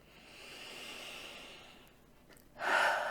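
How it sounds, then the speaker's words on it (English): One big deep breath drawn in slowly and softly, then let out in a louder rushing exhale at the end, close and alone without talk. "Big deep breath."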